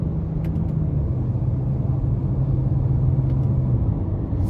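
A 2023 Nissan Rogue SL with the 1.5-litre turbo engine accelerates, heard from inside as a steady low rumbling drone with a faint rising engine tone beneath it, continuous and fairly loud.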